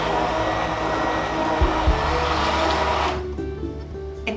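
A countertop blender spinning crepe batter, a loud steady whirring motor close by that cuts off and winds down near the end.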